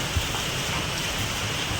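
Steady rain falls throughout at night, heard while travelling home, as an even, close wash of drops with no clear gaps and no talk.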